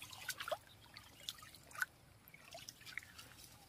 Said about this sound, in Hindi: और ये है तो पानी